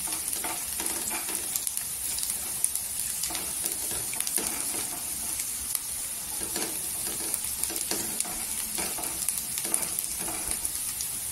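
Onions browning to golden in a pan for a Maharashtrian karatule bhaji, a steady close sizzle with scattered stirring scrapes and clicks running throughout.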